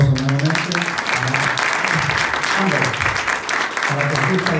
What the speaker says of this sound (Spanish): Un aplauso nuevamente.